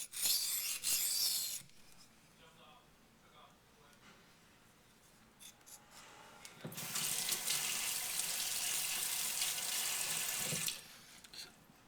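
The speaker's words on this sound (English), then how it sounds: "You see me rinsing off to the side here, getting the swarf off the blade." Water runs from a tap in two bursts, a short one at the start and a longer steady one in the middle, rinsing sharpening swarf off a knife blade, with quieter scraping and handling in between.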